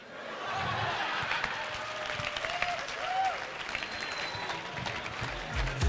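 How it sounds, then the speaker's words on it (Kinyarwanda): Audience applause at a comedy stage show, a sustained dense clapping that swells and holds for several seconds in a large room, with a few scattered cheers and laughs mixed in. "amashyi cyane kuri Clemence"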